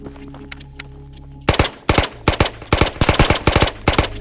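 Gunfire in the VR shooter Ghosts of Tabor: after a couple of faint distant pops, a loud close series of sharp single shots rings out in an uneven rhythm, roughly a dozen cracks in under three seconds.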